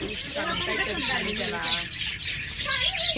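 Birds chirp and squawk in bright, overlapping calls close by, mixed with ongoing human voices and background chatter.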